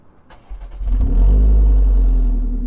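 A modified Perodua Myvi third-generation car engine starts and revs up into a loud, deep, rumbling exhaust drone that holds steady, close by.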